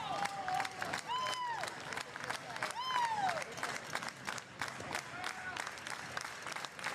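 Baseball fans clapping and cheering in the stands at a 5A state semifinal high school game, Aledo vs McKinney North, a steady crowd roar with whistles rising over it.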